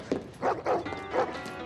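A large Dogo Argentino gives a quick run of three or four deep, close barks, each short and punchy with brief gaps between them, followed by quieter background sound.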